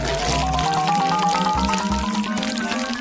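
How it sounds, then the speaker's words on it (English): Nutella poured from above into small homemade foil molds shaped like logs, a soft, steady pour running for about three seconds beneath continuous background music. "Then, I will pour my favorite Nutella inside."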